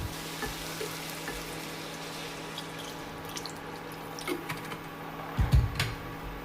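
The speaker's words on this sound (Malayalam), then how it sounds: "അതിലേക്ക് ഇനി നമുക്ക് വെള്ളം ചേർക്കാം." Water goes into a hot pan of ivy gourd curry and sets off a steady close sizzle and hiss. A louder splash near the end stands out against the constant frying.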